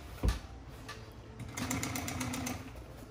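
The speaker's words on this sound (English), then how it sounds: "Time for the top stitch." A sewing machine top stitching a motorcycle seat runs in a short close burst, a rapid buzzing whir after a thump, lasting about a second before trailing off.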